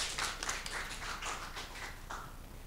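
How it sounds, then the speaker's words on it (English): Small audience at a developer meetup giving a round of applause, a short spell of scattered hand claps from a handful of people, faint and slightly distant, fading after a few seconds. "Yeah, a round of applause,"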